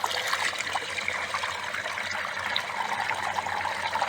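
Water flushes steadily out of a borehole during hydro-drilling on a high hillside, a continuous close gushing and trickling wash carrying sand and small pebbles, with no voices.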